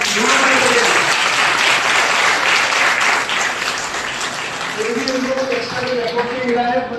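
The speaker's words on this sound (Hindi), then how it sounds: "पहले तो मॉनिटर के लिए जोरदार तालियां।" Loud, sustained applause from a crowd at a training completion gathering for locomotive assistant loco pilots, dense clapping throughout that eases slightly toward the end, with a voice speaking over it.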